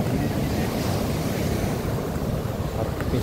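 Ocean waves break on a Zambales beach in a continuous, rushing wash of surf mixed with wind buffeting the microphone, fairly close and steady.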